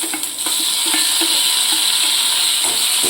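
Tomatoes tipped into a hot pan of sautéing vegetables for masala veg atta Maggi, giving a steady close sizzle and hiss with a few soft stirring taps, no talking.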